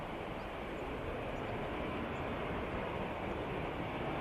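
An EasyJet airliner takes off at Manchester Airport with a steady, loud broadband jet roar that holds evenly throughout, no other sounds standing out.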